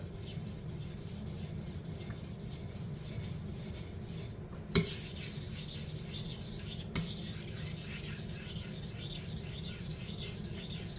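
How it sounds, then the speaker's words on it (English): A knife blade drawn repeatedly across a 1000 grit whetstone, working the tip, gives a steady continuous scraping rasp that runs the whole stretch, close and even, with a couple of small clicks and no talking. "And we go over to our 1000 grit. Same thing, 20 passes on the tip."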